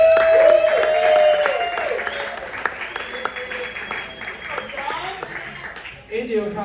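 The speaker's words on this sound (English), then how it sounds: "So give your best round of applause, noise for Dominic Hudson, guys." Crowd at a stand-up comedy show clapping and cheering as a comedian is introduced, steady applause under a loud voice speaking through a microphone, fading slightly before a burst of noise at the end.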